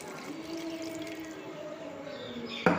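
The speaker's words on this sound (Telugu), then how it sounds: "ఇప్పుడైతే కొన్ని వాటర్ తలిగిద్దాం." Water poured into an old-style chicken curry in a pot, a soft close trickling and splashing liquid sound running steadily, ending with a sharp clatter.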